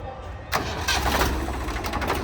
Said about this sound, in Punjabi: ਲੋ ਜੀ ਬਾਈ ਆਵਾਜ਼ ਚੈੱਕ ਕਰੋ ਟਰੈਕਟਰ ਦੀ